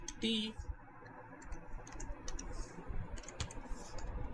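Someone types a command on a computer keyboard: faint, rapid key clicks run continuously for several seconds at low volume, with a brief tonal beep near the start.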